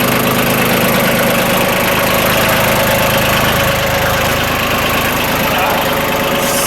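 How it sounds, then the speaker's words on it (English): A restored 1989 Yanmar 2220D compact diesel tractor idles nearby with a steady, loud, knocking rumble, while people talk over it. "There's a new tractor."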